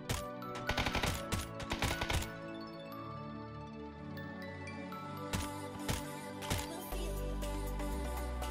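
A VSS Vintorez suppressed sniper rifle fires in PUBG, rapid bursts of sharp cracking shots with metallic clinks, clustered at the start and again later, over a steady background tone.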